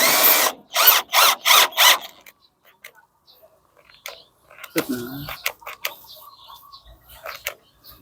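Cordless drill with a dying battery driving a screw, giving four short strained bursts in a row, then a pause before a clatter of clicks and knocks; a voice speaks briefly.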